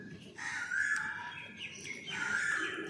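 An Asian koel calling outdoors, two drawn-out rising whistled notes that stand out above a quiet background, moderately close.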